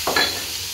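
Tomato hits garlic frying in a pan, a short sharp sizzle that flares briefly and then settles into a softer hiss, heard close and alone.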